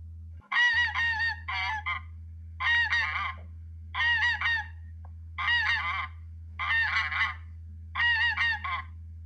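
A goose honks in six short, loud bursts spaced evenly, each a cluster of harsh nasal calls, heard alone over a steady low hum.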